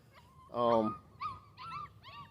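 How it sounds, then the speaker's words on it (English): Puppies whimper and yip in a few short bursts outdoors, with one louder, drawn-out whine followed by softer high cries, close by. "I really wish those puppies would hush, but of course they're not."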